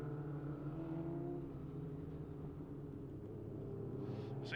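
Modified sprint cars at Ellesmere Speedway give a continuous, steady engine rumble across the whole stretch, loud and unbroken, with a brief higher whine rising near the end.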